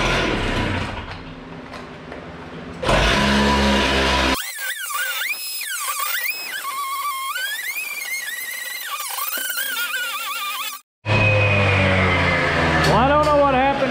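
A saw cuts a door opening dry, with no water on the blade. Its loud motor whine rises and falls in pitch as it bites in, cuts out abruptly for a split second, then roars back.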